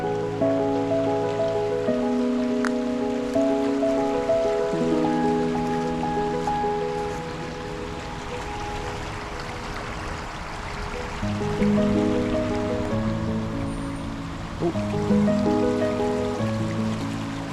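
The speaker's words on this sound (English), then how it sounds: "We're down at the river and it is beautiful down here." A river in the Peak District flows with a steady, broad rushing wash that continues unbroken throughout, swelling and easing slightly, with no voices.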